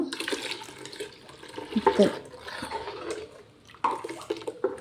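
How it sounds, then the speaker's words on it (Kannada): Water splashes and gurgles as it is poured into a pot of Mangalore mackerel curry, a close, uneven pour with a few louder surges and brief metallic knocks. "ಒಂಚೂರು ನೀರು ಹಾಕ್ಕೊಳ್ಬೇಕು"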